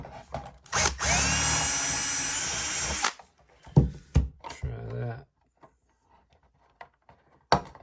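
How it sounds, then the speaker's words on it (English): A power drill runs loudly in one sustained burst of about two seconds, followed by clatter, handling knocks and a few quiet words. "Let's grab one size up on the drill bit."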